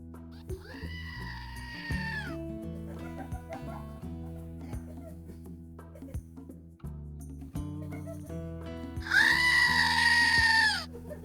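Two loud, drawn-out goat bleats from the RimWorld video game ring out over steady background music, one near the start and one near the end.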